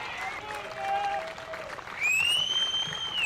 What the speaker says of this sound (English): Give Mr. Morgan a round of applause